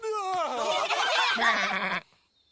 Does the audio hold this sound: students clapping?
no